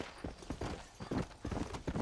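In the Red Dead Redemption video game, a horse's hooves clop on the ground in a quick, uneven series of close, thudding beats, with no talk over them.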